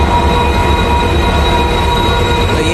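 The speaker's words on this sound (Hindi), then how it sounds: "कारवेट पार्क लिंक एक्सप्रेस ट्रेन।" The Corbett Park Link Express rolls past at close range, a loud continuous rumble of wheels on rails with a steady metallic ring and faint squeal, no voices heard.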